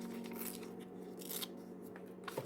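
Scissors snip through a sheet of paper in a quiet room, a few soft, close crisp cuts over a faint background hum.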